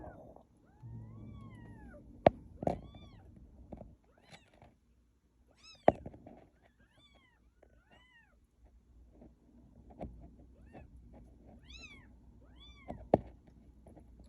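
A stray cat meows repeatedly at close range, giving drawn-out, rising and falling cries with quiet gaps between them, plus a few louder sharp bumps over a soft background.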